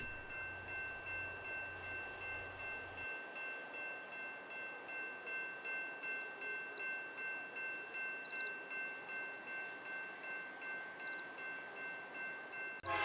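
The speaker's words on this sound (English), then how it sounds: "there's a BNSF mixed freight coming towards us" A BNSF mixed freight train approaching at Sand Point, Washington, a steady low rumble with a faint, continuous high tonal hum, heard from a distance and growing only slightly.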